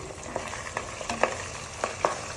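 Onion paste fries in a pan for a Telugu fish gravy, giving a soft, steady sizzle with a few brief stirring scrapes. Close and fairly quiet, with no voices.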